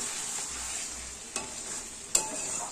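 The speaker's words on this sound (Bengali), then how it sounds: "এইদিকে প্রায় মাংসটা কষানো প্রায় হয়ে এসছে, আর একটু কষাতে হবে এখনো।" Meat being slow-fried and stirred in a pan for kosha, a faint steady sizzle with two sharp scrapes of a spatula, no voices.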